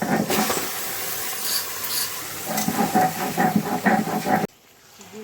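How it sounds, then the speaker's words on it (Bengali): Chicken fries in a pan with cumin paste and green chilies, giving a steady close sizzle and hiss with scraping and stirring strokes before it cuts off abruptly near the end. "জিরে বাটা দিয়ে দেওয়া হয়েছে আর কটা কাঁচা লঙ্কা দিয়ে চিকেনটাকে ভাজা হচ্ছে"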